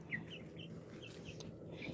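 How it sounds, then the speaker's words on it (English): Backyard chickens clucking softly in a short series of close, quiet calls over a low background hum, with no talking. "This was one of my birthday chickens."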